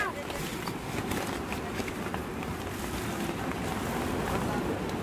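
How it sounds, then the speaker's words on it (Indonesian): Strong wind gusts roar and buffet the microphone at a family campsite in heavy rain, a dense, rushing noise that drowns out the surroundings while people talk under it. "Angin."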